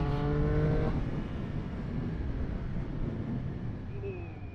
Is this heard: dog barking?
no